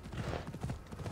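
Horse hooves clip-clop in a fast, steady gallop rhythm in a video game, loud and continuous with no speech over them.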